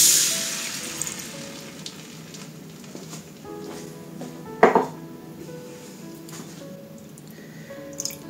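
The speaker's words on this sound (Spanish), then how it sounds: "en el mismo aceite que habéis hecho, que habéis sellado el pescado, el salmón, le vamos a echar la maicena o la harina que ya está disuelta con el zumo" Cornstarch dissolved in orange juice goes into hot oil left from searing salmon and sizzles steadily, with clinks of a pan and utensils and one sharper clatter midway.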